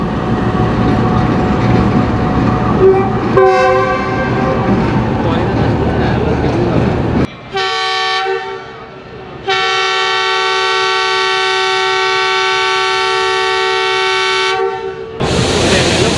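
A GE locomotive at Lahore Junction station rumbles beside the platform, then sounds several loud, sustained horn blasts. A brief pause separates the first and second long tones.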